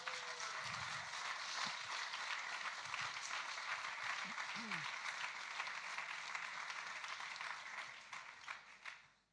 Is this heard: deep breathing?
no